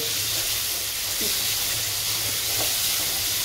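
Oil frying chana for a simple Assamese Ramadan iftar dish, a steady close hiss and sizzle with a faint low hum underneath, no talking.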